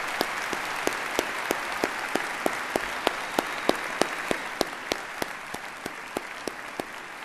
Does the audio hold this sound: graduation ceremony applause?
yes